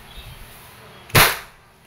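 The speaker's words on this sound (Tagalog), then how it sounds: "Glock 17 Gen 5 airgun. Okay? CO2 powered." A single sharp crack from an Umarex Glock 17 Gen 5 CO2-powered airgun, close and loud, with a quick decaying tail after a quiet lead-in.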